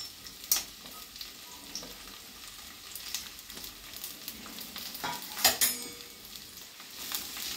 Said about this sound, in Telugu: బాగా వేపుకోవాలి